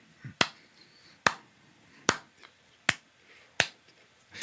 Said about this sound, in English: if you just clap that out, it almost sounds like I'm clapping like consistent notes